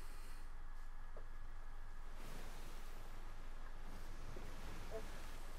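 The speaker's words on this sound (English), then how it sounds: "I hear the waves. The waves." Video game ocean waves in Sea of Thieves, a steady broadband wash like waves and wind, continuous and moderately loud with a faint rumbling low end.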